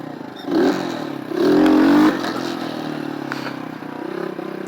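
Motorcycle engine revving in short bursts during wheelie practice, with two louder throttle blips near the start and a steady engine drone continuing afterwards, heard without speech.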